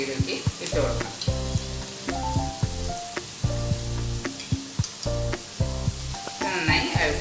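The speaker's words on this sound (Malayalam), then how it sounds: "ജിഞ്ചർ ഗാർലിക് പേസ്റ്റും കൂടി ഇതിലേക്ക് ഇട്ട് കൊടുക്കാം" Green chillies and ginger garlic paste fry in a pan for a potato and green pea curry, a loud close sizzle broken by repeated stirring scrapes and clanks of a spoon against the pan.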